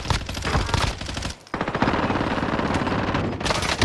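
Sustained rapid turret gunfire in a video game, dense automatic bursts filling nearly four seconds with a brief gap midway, loud and close with no talking.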